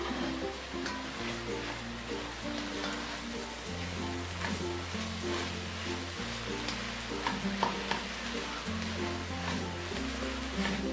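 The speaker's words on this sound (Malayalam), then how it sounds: "ഇനി ഇതിൻ്റെ ലിഡൊന്ന് മാറ്റിയിട്ട് വീണ്ടും ഇതൊന്ന് ഇളക്കി കൊടുക്കാം." Carrot halwa cooking in ghee in a pan as it is stirred, giving soft continuous sizzling and scraping under steady background music, with no speech.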